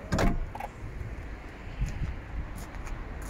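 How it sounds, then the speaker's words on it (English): The sliding rear door of a Ford B-Max opens with a sharp clunk of the latch, then a short rolling slide and a few soft knocks, all close up with no talk. "sliding opening rear door"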